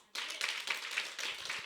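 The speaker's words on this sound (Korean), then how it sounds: "박수 한번 쳐봐요." A church congregation clapping together during a sermon, a short burst of dense rhythmic handclaps in several waves, fairly close and moderately loud.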